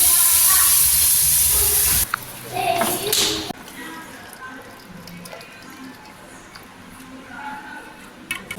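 Water pours loudly and steadily into a pan of green chilli fish curry for about two seconds, then quieter simmering and kitchen clatter follow, with a voice and other speech faintly in the background.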